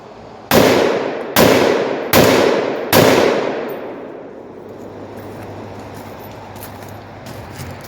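Four loud, sharp rifle shots from a Scar 17s or AR-10 firing 147 grain rounds ring out about once every 0.8 seconds close by, each with a decaying echo, followed by quieter ambient hiss and faint clinks.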